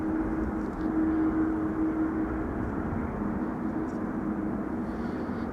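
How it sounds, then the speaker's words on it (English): ITA Airways Bombardier A220 (C-Series 300) airliner arriving to land, heard as a steady broad jet roar with a low engine hum, distant and constant throughout. "ITA Airways Flight 120 arriving from Milan, and that is a Bombardier C-Series 300 or A220."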